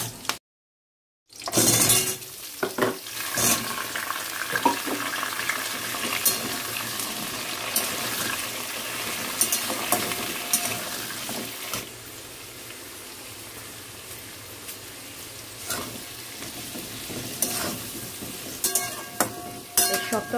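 Chilies frying in a pan of hot mustard-oil five-spice tempering, a steady close sizzle and crackle with occasional stirring scrapes, continuous and fairly loud throughout.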